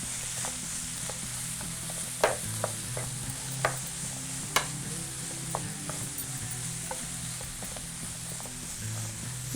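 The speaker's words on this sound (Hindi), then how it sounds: "और मैं इसको अब मिक्स कर रही हूँ।" Vegetable soup is stirred in a pan with a wooden spoon over a steady low sizzle and simmer, scattered soft knocks and scrapes of the spoon against the pan recurring irregularly throughout.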